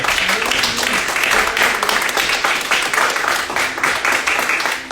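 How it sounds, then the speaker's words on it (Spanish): A church congregation applauds loudly and steadily, a dense wash of many hands clapping close by, with some voices mixed in underneath. "Bríndele un fuerte aplauso al Señor."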